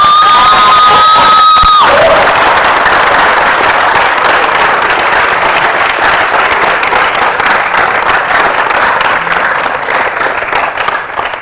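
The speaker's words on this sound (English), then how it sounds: "can we clap for that?" An audience at a live math-a-thon event bursts into loud, sustained clapping and cheering with whoops. It follows a brief voice at the start and stays dense and steady for about nine seconds before slowly easing off.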